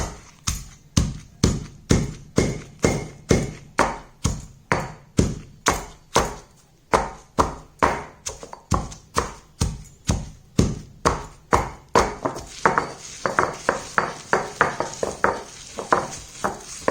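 Roasted red chillies, curry leaves, unpeeled garlic and sesame oil pounded for a Tirunelveli-style hot chilli chutney: steady, close, loud thuds repeat about three times a second throughout, each strike sharp and alone, with no talk.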